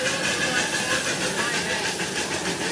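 Steam locomotive Interstate No. 9 rolls past nearby at a steam engine meet, with a broad, steady hiss of steam and a faint rhythmic chuffing throughout.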